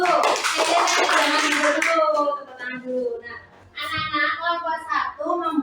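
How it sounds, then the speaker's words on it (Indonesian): Classroom applause from students after a group presentation: a dense burst of clapping fills the first couple of seconds, then fades as children's voices and a teacher's talk carry on. "Tepuk tangan dulu"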